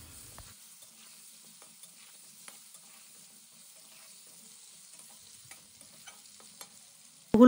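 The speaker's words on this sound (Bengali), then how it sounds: "ভালোভাবে ভেজে নেব" Potato pieces with salt and turmeric fry quietly in a pan, giving a faint, even sizzle with a few soft ticks and a louder bump at the very end.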